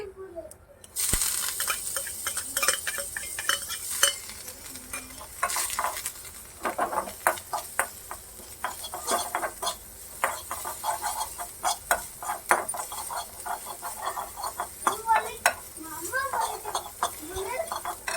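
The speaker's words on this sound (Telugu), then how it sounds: "జింజర్ పేస్ట్ గార్లిక్ అండ్ సోంపు ఈ మూడు ఆయిల్లో ఫ్రై చేసేసుకోవాలి" Ginger paste, garlic and fennel seeds fry in hot oil, giving a crackling sizzle with repeated scrapes and clinks of a stirring spoon against the pan. A voice talks over it throughout.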